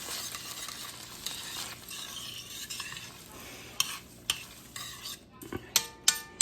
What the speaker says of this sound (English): You just want to saute these till the onions get translucent.